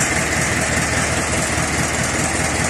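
An Ursus C-360 tractor engine, freshly overhauled after standing unused all winter, idles steadily and loudly up close, with a continuous rumbling, knocking chug and no voices.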